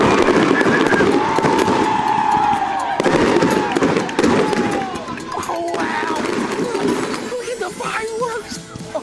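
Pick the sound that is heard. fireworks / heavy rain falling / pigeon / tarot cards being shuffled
fireworks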